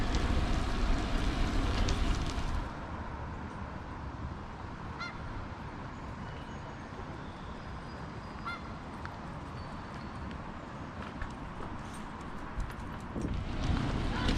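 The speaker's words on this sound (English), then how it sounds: "even though it's just constantly drizzling" Steady light drizzle during a bike ride on a paved trail, heard as a continuous soft hiss with wind rumble and faint tire noise, louder gusts at the start and end.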